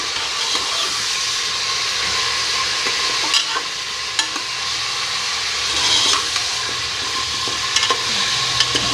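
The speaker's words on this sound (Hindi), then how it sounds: "फ्राई हो रहा है हमारा गोश्त।" Beef for nali nihari fries in oil, giving a steady, close sizzle throughout with occasional stirring scrapes and clinks, and no voices.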